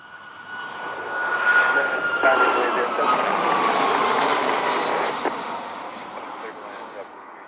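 Airliner jet engines at a Jamaican airport roar up and swell as an aircraft passes, a loud broad rumble with a rising whine that holds then slowly fades.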